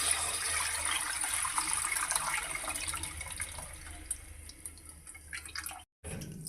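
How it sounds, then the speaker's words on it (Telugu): Tamarind juice poured into a simmering vegetable curry, a continuous bright trickling and splashing stream that runs several seconds, briefly cuts out, then resumes with a lower clatter, with no talking. "కొద్దిగా చింతపులుసు వస్తాను"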